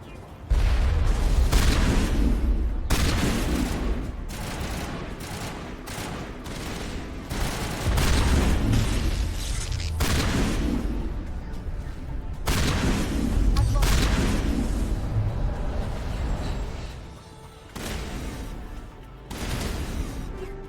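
Sustained artillery and gunfire in the Mass Effect Legendary Edition battle, loud booms and bursts rolling almost continuously with brief lulls, and a voice talking at moments over the din.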